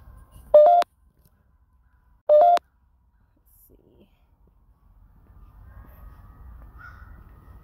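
Crows caw twice in a New Orleans cemetery, two short harsh calls a couple of seconds apart, then quiet with faint low rumble and distant background noise.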